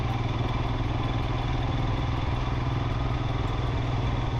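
A motorcycle engine idles close by, a steady throbbing rumble with a rapid, even pulse and no pauses.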